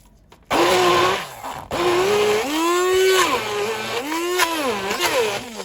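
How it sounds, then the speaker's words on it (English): Hand blender whirring through a cooked shami kebab mixture of beef chunks, switching on in loud bursts with a rising, wavering motor pitch as it works through the thick mix, close up. "Now you put a hand blender through this."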